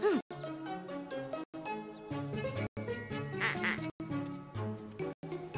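A duck quacks repeatedly in quick nasal bursts, loud and close, with short gaps between runs of calls.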